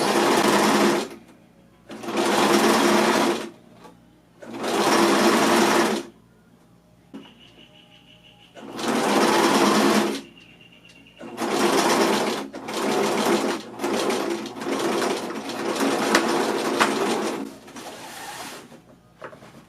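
A sewing machine runs in repeated loud bursts of stitching along both sides of a bag, each run lasting a second or two with short quiet gaps, then longer stretches near the end.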